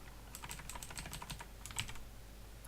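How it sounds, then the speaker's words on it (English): Fingers type on a computer keyboard in a quiet room, a quick, uneven run of light key clicks close to the mic, with one slightly louder press near the end. "and here I will type"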